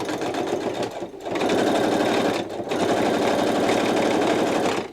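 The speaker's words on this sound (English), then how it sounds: "Go ahead and sew each side of the pants." A sewing machine runs loud and close, stitching the side seams of fabric balloon pants, a steady rapid mechanical whir broken by two brief pauses.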